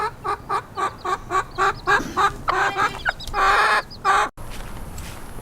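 Chickens in a new brooder coop cluck in a steady, loud run of rhythmic clucks close by. A brief squawking flurry comes near the end, then the clucking gives way to quieter room noise.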